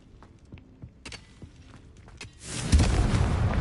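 A Confringo blast spell goes off in Hogwarts Legacy: quiet footsteps and small taps, then a loud broadband burst and sustained roaring rumble that fills the last second of the clip.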